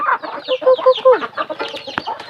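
Chickens cluck close by in a quick, busy run of short calls.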